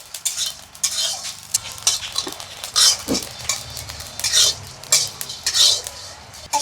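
Cumin, coriander seeds and cardamom pods being stirred in a very hot wok, with repeated metallic scrapes and clatters of a spatula against the pan over a light dry sizzle.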